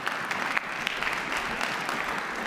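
An audience at a Mahtomedi High School winter concert applauds all-state band students with a short burst of steady, dense clapping from many hands.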